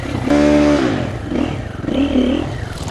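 A Triumph TF450-C enduro dirt bike engine revs up and down nearby while riding through West Virginia woods, rising and falling with some clatter.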